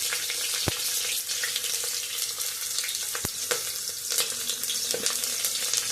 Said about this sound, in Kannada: ಎಣ್ಣೆ ಕಾದಿದೆ. ಇವಾಗ ನಾನು ಒಂದು ಅರ್ಧ ಟೇಬಲ್ ಸ್ಪೂನಷ್ಟು ಸಾಸಿವೆ ಹಾಕಿದ್ದೀನಿ.